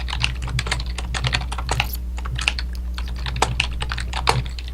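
A loud computer keyboard clatters with rapid, irregular keystrokes close by, steady typing bursts over a low background hum.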